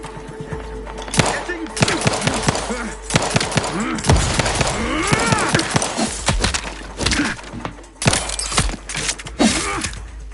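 Gunfire and a grenade blast in the video game Outer Worlds 2, with bursts of sharp shots, a heavy booming explosion and a rumbling aftermath, loud and cluttered with overlapping combat effects.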